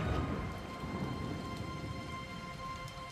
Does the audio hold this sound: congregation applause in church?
no